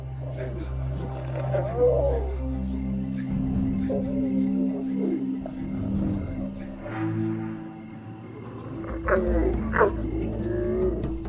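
A wild lion roars in the African bush, with deep, drawn-out tonal calls in a series of separated bouts over steady insect chirping and a faint high whine.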